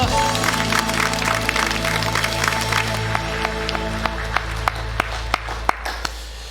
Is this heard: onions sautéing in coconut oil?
no